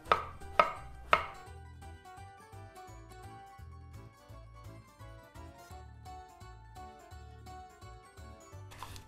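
A knife chops mushrooms into small pieces on a board, three sharp quick strikes at the start and one more at the end, with background music running quietly throughout.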